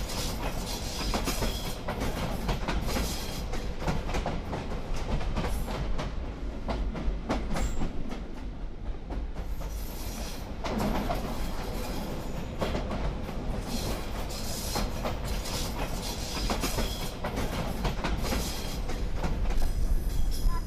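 A heritage train on the Chemin de Fer du Bocq line in Belgium runs through a railway cutting, a continuous loud rumble with rhythmic wheel clatter and rail noise throughout.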